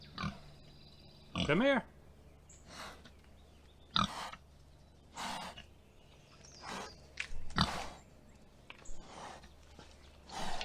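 Pigs on a homestead, including a gilt, grunt and snuffle close by in a series of short bursts with one brief squeal, while a person calls to them.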